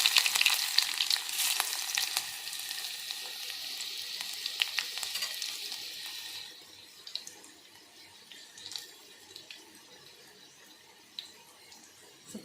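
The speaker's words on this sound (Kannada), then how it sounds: "ಬೆಳ್ಳುಳ್ಳಿ ಹಾಕ್ತೀನಿ" Garlic frying in a pan during home cooking, a bright crackling sizzle that is loud at first and then settles into quieter, sporadic popping.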